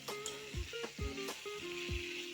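Duck meat sizzles in a hot pan while being stirred. A steady frying hiss is broken by several sharp metallic scrapes and clanks of the utensil against the pan, close and fairly quiet.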